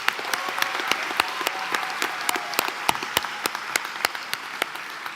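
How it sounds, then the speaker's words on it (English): Audience applause honours student speakers at the 2024 KILP graduation ceremony. It is fairly close and moderately loud, with sharp individual claps standing out against a continuous clapping wash. "Please give them a round of applause."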